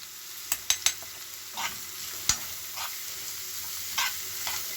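Onion frying in a pan for a savory vegetable quiche, with a steady soft sizzle and several sharp stirring clinks and scrapes of a utensil against the pan.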